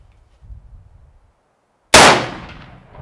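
A single 45-70 rifle shot firing a hard cast gas-checked bullet at an outdoor range bursts out as one loud, sharp crack after a quiet lead-in, then fades away in a long echo.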